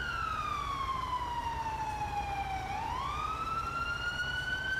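A wailing emergency vehicle siren in the video game EmergeNYC, loud and close, its pitch sweeping down slowly and then rising again over a steady low engine rumble, with no talking.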